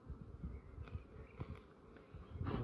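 Honeybees from a newly caught swarm, gathered on a hive frame, hum in a low steady drone at close range, with faint handling knocks and rustles of the frame.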